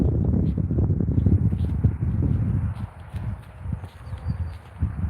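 A horse walks over the ground close by, hooves clopping in an uneven steady rhythm under low rumbling wind noise against the microphone.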